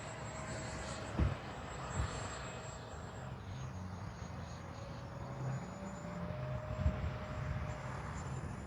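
A Freewing 80mm A-6 RC jet plane, an electric ducted-fan model, whooshes steadily overhead through a slow roll at moderate distance, with a few soft thumps near the start.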